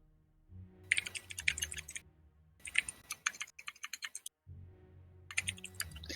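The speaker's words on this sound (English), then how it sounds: "typing it out" Typing on a computer keyboard in short bursts of rapid key clicks separated by brief pauses, close and moderately quiet, with a low hum beneath and no talking.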